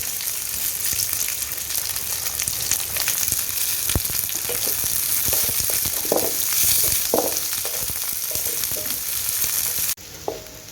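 Three large onions fry in two ladles of oil on a wood-fired chulha stove for a bazaar-style amti, giving a steady close sizzle with a few soft stirring knocks. The sound thins abruptly near the end, and no one speaks.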